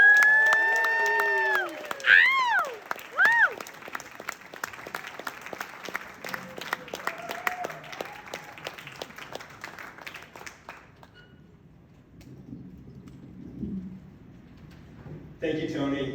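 A comedy club audience at the Al Bahr Temple applauds and cheers a comedian coming on stage, a dense burst of clapping that fades over about ten seconds, with whoops early on and talk following.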